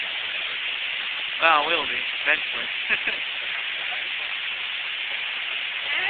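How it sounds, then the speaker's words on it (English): Heavy rain pours in a severe storm in Altoona, Pennsylvania, as a steady broadband hiss throughout while someone talks briefly over it. "It's the worst storm we had for a while."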